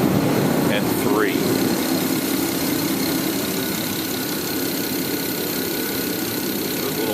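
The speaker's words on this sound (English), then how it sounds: "it was misfiring on cylinder #1 and shutting down cylinders 1, 2," A BMW engine idles roughly while misfiring on cylinder 1, with cylinders 1 to 3 shut down, giving a steady, loud mechanical drone with uneven low pulsing throughout, close by.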